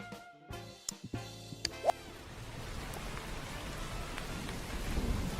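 Steady rain sound effect triggered on a livestream, a hiss of falling drops building after a few sharp clicks and taps, continuing evenly and slightly louder toward the end with no voices.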